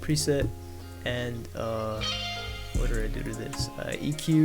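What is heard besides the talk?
None of the usual background noises is heard.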